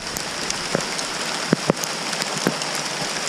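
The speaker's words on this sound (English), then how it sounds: "Hail's falling on me!" Scattered ice pellets of hail strike hard surfaces outdoors on a cold day, a steady hiss with sharp, irregular ticks and taps, a few louder impacts standing out near the listener.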